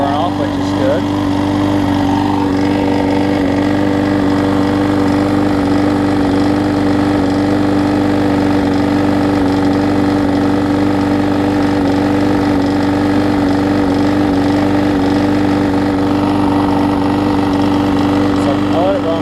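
A Husqvarna lawn mower with an aluminum deck runs at a steady idle, its engine droning close and constant without a break, a slight roughness in the tone.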